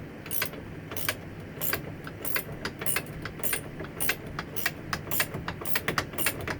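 Loosening a homemade strut spring compressor produces a steady run of small metallic clicks and clanks, like a ratchet or threaded rod being worked, in an irregular rhythm at close range with no talk.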